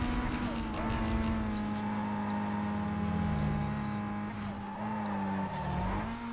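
A race car in Need for Speed Most Wanted screams along at full throttle, its loud, steady high-revving engine drone rising and falling slightly with tire squeal and skidding mixed in.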